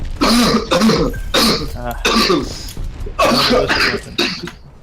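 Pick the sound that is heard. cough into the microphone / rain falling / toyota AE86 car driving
cough into the microphone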